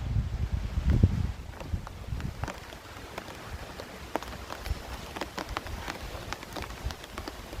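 Rain falls on a park trail at Mt. Tabor, a steady soft patter of scattered drops on leaves and ground, with a brief low rumble of wind or movement at the start.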